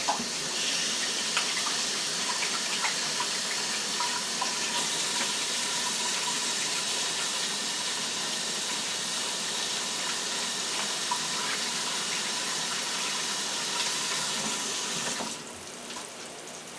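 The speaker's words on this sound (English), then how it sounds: "I'm going to wash my hands." Hands washed under a running kitchen sink tap during a fried chicken cooking session, a steady broadband rush of water for about fifteen seconds before the flow is cut, leaving a quieter hiss.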